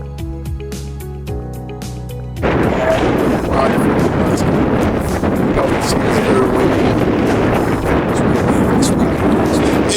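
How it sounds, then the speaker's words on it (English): Strong outdoor wind buffets the microphone in loud, continuous roaring gusts after a quieter opening of faint tonal sound, with no other sources clearly heard. "It's very windy."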